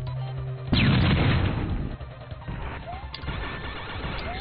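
A sudden loud explosion erupts in a Mushroom Kingdom Fusion video game, followed by a crackling, rumbling decay with smaller impacts and zaps scattered through the rest of the clip.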